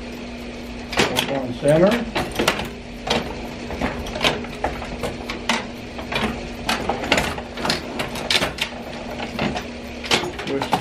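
A Linotype typesetting machine fitted with a star quadder runs with dense mechanical clatter, clicks and knocks over a steady hum, while a person speaks briefly nearby.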